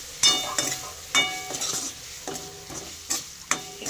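Curry being stirred in a pan with a spoon, giving repeated scraping strokes with a faint sizzle between them, close and fairly loud, with no voices.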